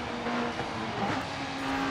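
A race car engine in Forza Horizon 5 roars steadily at high revs, a loud sustained drone with slight pitch shifts.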